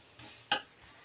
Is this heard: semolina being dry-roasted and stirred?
yes